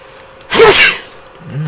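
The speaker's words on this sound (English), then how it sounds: "I don't know why I sneeze." A single loud, close human sneeze bursts out abruptly and fades within half a second, followed by quiet breathing.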